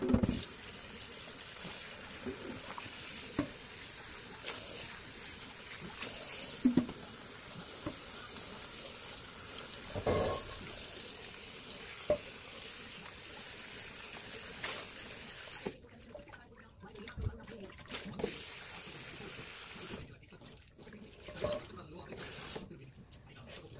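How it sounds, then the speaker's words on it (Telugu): Warm water runs steadily as a cast-iron dosa pan is scrubbed in a sink, with a constant hiss of flowing water, brief knocks of metal, and the stream cutting in and out near the end. "కొంచెం హాట్ వాటర్ ఆర్ వామ్ వాటర్తో ఇలా బాగా స్క్రబ్ చేసుకోండి"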